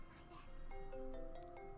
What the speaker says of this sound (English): What a time to get a phone call.